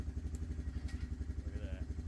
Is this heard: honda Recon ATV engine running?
yes